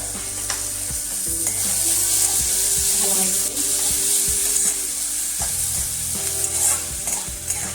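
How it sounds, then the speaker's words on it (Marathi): Onion and tomato masala with a pinch of salt sautéing in a pan for a spicy prawn masala, a steady close sizzle with repeated spatula scrapes and knocks against the pan. "त्याच्यावरती थोडंसं मीठ टाकूया म्हणजे पटकन परतला जातो आपला मसाला"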